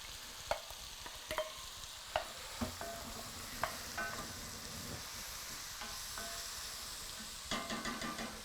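Onions and peppers sauté in a pan with a soft steady sizzle, broken by sharp clacks of a utensil stirring and scraping, quiet and close, with no voices.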